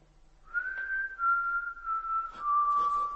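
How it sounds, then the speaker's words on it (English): A person whistles one long sustained steady note to call someone in a dark theatre dressing room, clear and close, wavering slightly and holding for about three seconds with faint knocks beneath. "I'll whistle, and you come to me."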